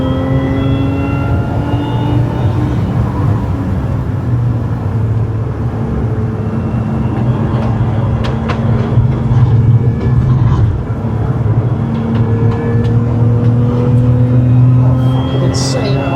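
A Lotus Emira sports car lapping Spa Francorchamps gives a steady, loud in-car engine drone with rising and falling harmonic tones as it shifts and accelerates, and a low rumble runs throughout.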